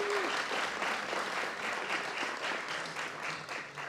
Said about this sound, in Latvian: Es domāju, varam liels aplausus uztaisīt.